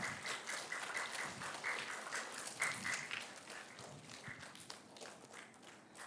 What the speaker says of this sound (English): Please give a huge round of applause for Mr. Jainul